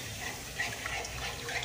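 Milk trickles gradually into a pan of fried flour, a soft continuous watery pouring under steady background noise, close by and fairly quiet.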